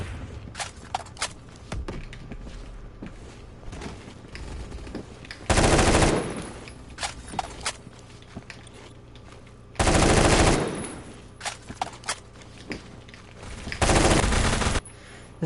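Automatic gunfire from the shooter game Phantom Forces comes in three loud sustained bursts, each about a second long, separated by quieter stretches of scattered clicks, footsteps and distant shots.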